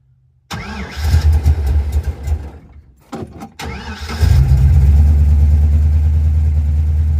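A car engine fitted with an Edelbrock 1405 carburetor cranks and catches, then stumbles and nearly stalls before firing again into a loud, rough, low idle, heard up close with no talking.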